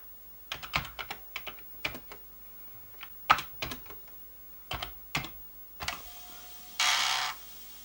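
A Commodore 1541-II floppy disk drive with a disk loaded works on its own, giving a string of sharp clicks and ticks from its mechanism, then a steadier whirring buzz near the end, all close and fairly quiet.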